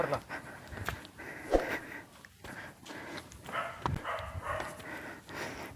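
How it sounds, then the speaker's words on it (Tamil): A dog on a remote mountaintop among scattered houses barks and pants at a distance, in short, uneven bursts that are partly lost in outdoor background noise. "அங்கே தான் நாய் குலைக்குது"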